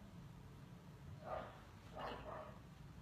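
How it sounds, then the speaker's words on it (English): A dog barks faintly in the distance, three short muffled barks in two bursts over a low steady background hum. "Sorry about the dog barking"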